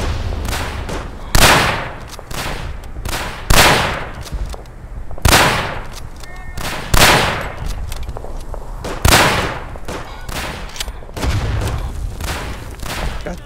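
Repeated gunshots in the World War One shooter Verdun, including pistol fire, about a dozen sharp loud reports spaced irregularly every second or so over a steady rumble of distant battlefield gunfire.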